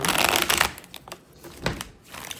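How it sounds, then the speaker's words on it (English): Tarot cards are shuffled close by with crisp riffling bursts, a longer flurry at first, then shorter brushing slides and taps. "I can shuffle this right."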